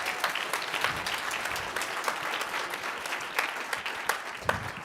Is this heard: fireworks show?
no